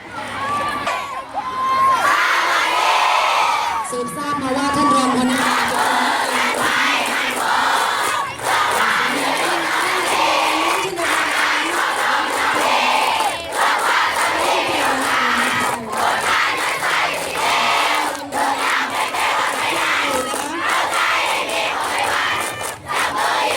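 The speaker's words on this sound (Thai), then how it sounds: "เดี๋ยวไปดูการเชียร์ของสีเหลืองเลยนะคะ" Yellow team cheering squad with an Egypt concept at a school sports day, a loud massed crowd of young voices chanting and shouting in rhythm with drumming, sustained and energetic throughout.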